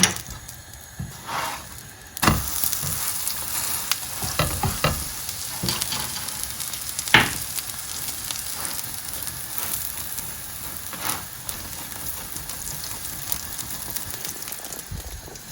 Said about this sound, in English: I'm cooking this in some ghee today. Just a teaspoon on each side.